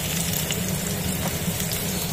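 Onions sizzling in hot oil in a pan while cooking a Bengali stuffed pointed gourd curry, a steady close crackling hiss with no other sounds.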